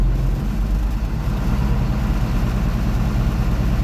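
A bus engine runs at raised RPM with a deep, steady, loud rumble and a constant low drone throughout, and no voices.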